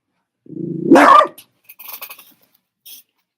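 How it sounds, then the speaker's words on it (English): A single close dog bark, starting with a low growl that rises into a sharp yap, followed by faint rustling. "No barking."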